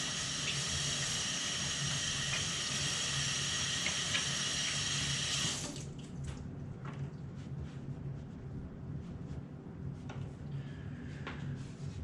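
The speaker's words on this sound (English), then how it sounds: "I'm going to wash my hands quick." Hands rinse under a running kitchen tap during bison heart fajita prep: a steady, full rush of water for about five seconds, then it cuts off, leaving quieter clatter and room noise.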